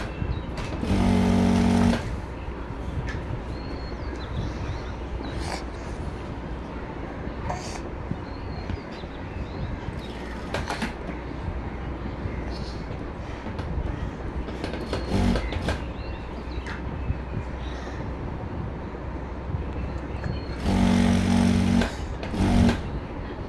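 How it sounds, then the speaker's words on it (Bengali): A sewing machine stitches pyjama fabric in long continuous runs, a steady close mechanical whir with a few louder bursts near the start and end, no talk. "আর আমি এটা টানা টানা সেলাই করতেছি কেন"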